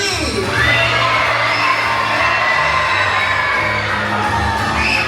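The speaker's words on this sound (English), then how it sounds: "let's give Mickey and Minnie the biggest, the loudest see you real soon you've ever yelled in your life" A crowd of cruise passengers and children on a Disney Fantasy ship yells a loud farewell together, a sustained roar of shouting and cheering with whoops rising through it.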